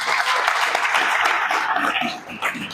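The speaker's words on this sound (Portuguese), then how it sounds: "Você pode aplaudir o Senhor Jesus?" A church congregation claps together in a brief, steady burst of applause filling the room.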